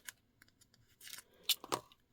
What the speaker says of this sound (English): I've got some sharp scissors.